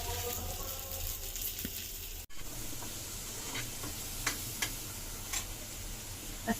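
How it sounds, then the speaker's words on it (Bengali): Fish frying crisp in a pan with plenty of onions, a steady low sizzle and hiss with scattered faint pops and a brief dropout, close and quiet with no talk over it. "আজকে অনেকগুলো পেঁয়াজ দিয়ে মাছ ভাজি করবো।"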